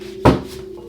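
A single burst of tarot cards being shuffled during a reading, one short rustling riffle over a faint steady background hum.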